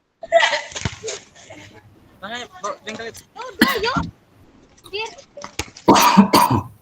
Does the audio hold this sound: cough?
yes